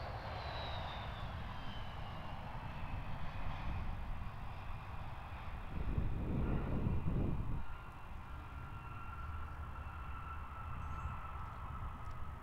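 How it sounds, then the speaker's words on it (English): An Air North Embraer 170LR airliner lands at Perth Airport, its engines giving a steady, fairly distant roar with a descending whine that swells briefly mid-way during touchdown and rollout before settling back. "Great landing from the Embraer 170LR from Darwin to Alice Springs to Perth."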